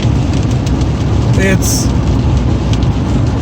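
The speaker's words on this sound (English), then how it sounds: "even hard to drive because of the downpour" Heavy rain downpour drumming steadily on a moving car, a constant loud broadband wash mixed with road and engine noise, with someone talking over it.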